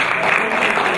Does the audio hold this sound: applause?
yes